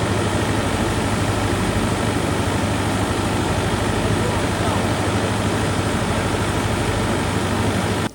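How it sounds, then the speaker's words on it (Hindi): A Nilgiri Mountain Railway steam locomotive stands at Kallar station during water filling, giving a steady, loud, broadband hiss and low rumble that continues without a break. "यहाँ पे स्टीम इंजन में वाटर फिलिंग जो है वो हो रही है।"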